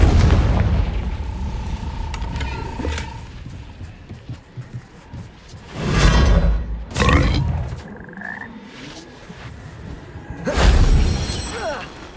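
Confringo fire-blast spell explosions in the Hogwarts Legacy video game, heard as several loud booming bursts spread across a rumbling in-game background, with two strong blasts close together and another near the end.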